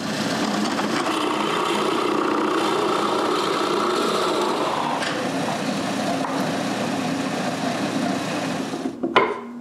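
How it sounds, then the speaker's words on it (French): A drill bores a hole into a wooden block while an edge sander is being built in a woodworking shop, giving a steady, close whirring grind for about five seconds that eases off, then ends with a short clatter. "je mesure la profondeur à laquelle je devrais percer le trou et je le perce"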